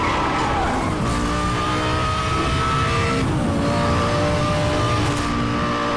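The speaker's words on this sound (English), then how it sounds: "Gotta use the turbo because we're down heavily" A racing car engine in Need for Speed Hot Pursuit Remastered roars steadily under turbo boost during an online hot pursuit race, with a constant loud drone, shifting engine pitch and some tire noise, no talking.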